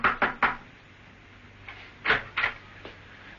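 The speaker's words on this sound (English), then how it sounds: "he approached a door which read, "The QQF Inc. Knock and enter." Steed did so" Knocking on an office door: two sets of sharp raps, three quick knocks near the start and three more about two seconds later, moderately close with quiet between.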